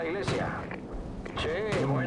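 Cannon fire from a 105 mm gun in Call of Duty 4: Modern Warfare, with a couple of heavy booming shots over someone speaking throughout.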